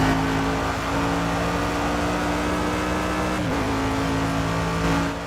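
A GT3 race car in a racing video game accelerates with a steady high-pitched engine drone, briefly dipping on a gear change before the whine climbs again, heard alone.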